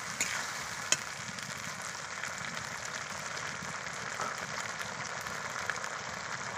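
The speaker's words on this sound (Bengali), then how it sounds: "এবার আমি ভালো করে মশলা কষে নেব।" A paste of ginger, cumin, coriander and dried chilli fries in hot oil with a steady, close sizzle. A few faint stirring clicks sound over it, with no speech.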